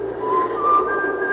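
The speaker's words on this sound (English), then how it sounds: "and then I heard someone whistling" Someone whistles a short melodic phrase, a clear solo whistle rising in pitch across a couple of sustained notes, close and alone against a quiet background, as a radio drama effect.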